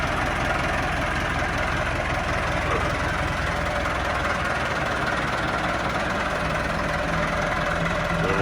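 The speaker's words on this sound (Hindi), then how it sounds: "ये है जी मेरा ट्रैक्टर और मेरा ड्राइवर, ये अभी रवाना हो रहा है ज़मीन की तैयारी के सिलसिले में।" A farm tractor idles before heading out to prepare a village field, its heavy diesel engine chugging steadily and loudly up close, with a constant low knocking rumble throughout and no talk.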